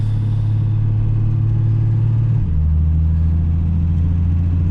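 A 1960s Mercedes-Benz W108 with a naturally aspirated six-cylinder engine idles with a steady low rumble, then the pitch drops partway through before it settles again, continuous and close, with no talk.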